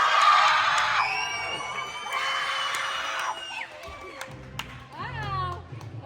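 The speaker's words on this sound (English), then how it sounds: "I need everybody to clap and scream as loud as you possibly can" A crowd at a live show claps, whoops and screams loudly on cue in a dense burst that tapers into scattered shouts and cheers. A few voices stand out near the end.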